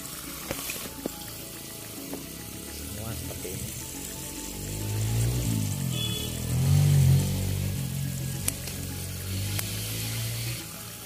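Water trickles and gurgles through a drip irrigation hose, a soft continuous flow that swells briefly in the middle, with a few faint clicks.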